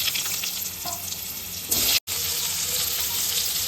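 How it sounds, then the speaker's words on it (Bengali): Potato pieces fry in hot oil in a pan with cumin, bay leaf and dried red chilli, giving a steady sizzling hiss that briefly cuts out and then resumes. "একটু নুন দিয়ে ভালো করে ভেজে নেবো যতক্ষণ না সেদ্ধ হয়"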